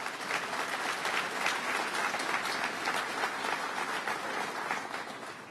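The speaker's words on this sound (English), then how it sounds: "So give yourselves a round of applause." Sustained applause from a crowd at a Syracuse campaign kickoff rally with Governor Cuomo, a dense steady wash of many hands clapping at even loudness throughout, with no speech over it.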